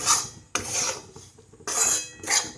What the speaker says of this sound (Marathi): तुपामध्ये ना 2 मिनटं मी भाजून घेणार आहे